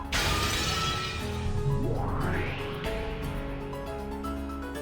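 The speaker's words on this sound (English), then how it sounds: "the whole world shattered as though it were made out of thin glass" Thin glass shatters in an Umineko visual novel scene, a loud crash over a busy musical background, followed by a rising sweep and continuing layered tones.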